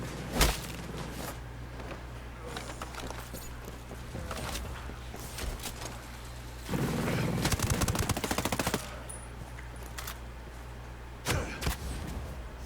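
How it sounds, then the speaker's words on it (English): Sniper gunfire in the video game Ghost Recon Breakpoint: several sharp, loud cracks spaced through the clip, with a longer rumbling stretch of shots in the middle, all over a low steady drone. "That was a sniper."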